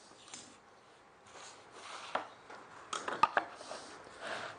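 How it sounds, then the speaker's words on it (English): A hand knife cuts away wood for a hexagonal marquetry box, a series of faint scraping and chopping strokes, irregular and close, growing a little busier toward the end. "hold it nice and firm, and then using your knife, just gradually cut away"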